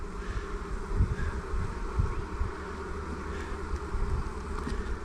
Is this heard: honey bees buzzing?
yes